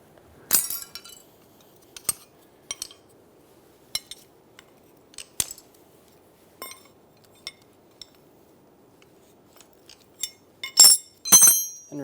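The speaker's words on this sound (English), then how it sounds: "Using a 17mm, we're going to remove the pressure switch off of the old line." A wrench works a pressure switch off an old power steering line on a 2003-2008 Honda Pilot, giving scattered sharp metallic clinks and taps, with a louder cluster of clanks near the end, over a quiet background.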